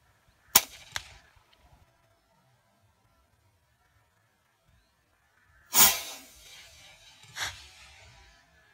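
A Rapid HM1000X air gun fires at a target 70 metres away during long-range hunting, giving a sharp crack followed by a quick second report, then after a pause another loud hiss-like burst and a fainter pop.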